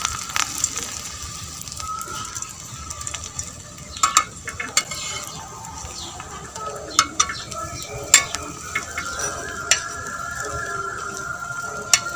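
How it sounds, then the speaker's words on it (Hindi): Bread frying in hot ghee on a tawa, a soft steady sizzle with occasional sharp scrapes and clinks of a utensil against the pan. "अब हम इसके ऊपर ब्रेड जो है इसको तलेंगे"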